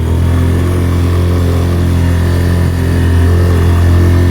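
A vehicle engine pulls away in first gear along a scenic pine-lined road, a steady loud mid-range drone with a slight rise in pitch and level near the end, close and continuous with no talk.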